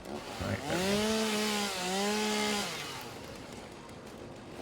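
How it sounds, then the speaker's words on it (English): Chainsaw in the video game Satisfactory, a loud steady whining buzz with a dip and rise in pitch, cutting through foliage, then trailing off into background noise. "I know I can just pick these up, but I prefer using the chainsaw"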